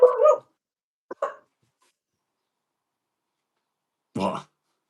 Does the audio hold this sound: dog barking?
yes